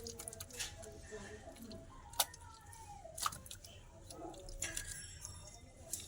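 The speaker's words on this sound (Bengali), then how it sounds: "ধনে পাতা এগুলো আমি গোটা গোটা একটু বেসনের মধ্যে চুবিয়ে" Whole coriander leaves dipped one by one into gram flour batter give a few soft, wet squishes and light clicks, faint and sparse against a quiet kitchen background.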